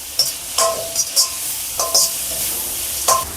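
Ginger-garlic paste frying in a pan for tomato rice, with a steady sizzle under repeated scraping strokes of a spoon stirring against the pan, several short clattering stirs close up, no talk.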